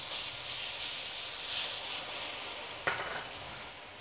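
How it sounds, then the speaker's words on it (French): Beef and lemongrass sizzle in a hot wok as the cook stirs, a dense frying hiss up close; near the end a sharp burst marks soy sauce hitting the pan before the sizzle settles. "Je rajoute la citronnelle, 1 minute, puis je déglace à la sauce soja."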